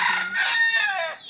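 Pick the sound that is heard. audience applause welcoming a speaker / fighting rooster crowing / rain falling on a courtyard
fighting rooster crowing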